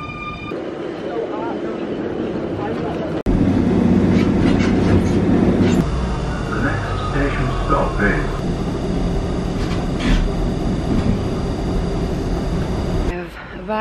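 A train rumbles and clatters steadily through Preston station, with a sudden loud thump partway, ambient echoing noise and brief talk in the background.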